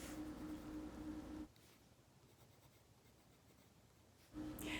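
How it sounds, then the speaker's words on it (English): Colored pencil scratching on paper while coloring flower petals, a soft close scratchy rasp in two stretches separated by a quiet pause. "using the orange pencil, color in the remaining parts of the petals, their outer tips"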